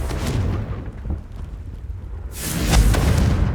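A Confringo fire spell in Hogwarts Legacy lands with a booming blast: a rumbling burst at the start, a quieter stretch, then a second, louder explosion with a bright crackling tail, close and with no voices.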